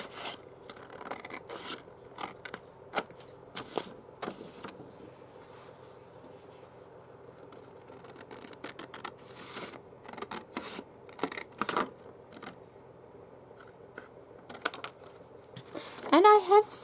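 Scissors snipping through paper while cutting out a small paper dress, a scattering of short, close crisp cuts and rustles separated by quiet pauses, with a voice speaking softly at times.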